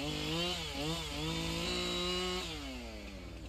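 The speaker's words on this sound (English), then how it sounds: "So there we go. That's the chainsaw." A chainsaw runs in the Alaskan Road Truckers video game while clearing a roadblock, its engine revving up and down in steady harmonic waves, loud and close, with no talk.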